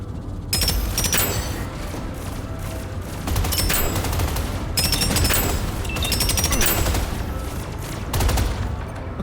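Dense bursts of gunfire from a real gun in the video game Deadzone Rogue, rapid overlapping shots rolling almost continuously and loudly over several seconds with brief pauses between volleys.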